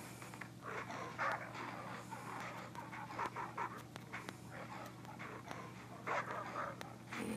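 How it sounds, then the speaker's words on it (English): Wolves in the SurvivalCraft video game make panting, whimpering and yipping dog-like sounds at moderate distance and low volume, repeating in uneven bursts over a steady ambient hum. "I hear some wolves."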